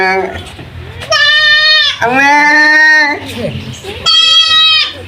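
A goat bleats loudly and close by in a village setting, with several drawn-out, wavering calls in a row and a voice talking in the background.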